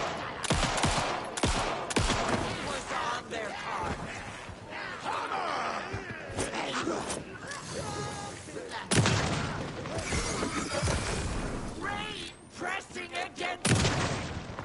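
Crossbow and pistol shots in Alan Wake 2 burst out in sharp, irregular cracks and thumps over a busy, loud game soundscape, with a voice talking now and then.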